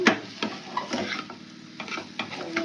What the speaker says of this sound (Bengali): আলুটা দিয়ে আমি এবার ভালোভাবে একটু নেড়ে চেড়ে কষিয়ে নেবো